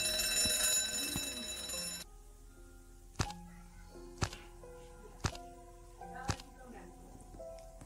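An alarm rings in the horror video game Endless Nightmare: a dense ringing burst at first, then a series of evenly spaced heavy thuds about once a second.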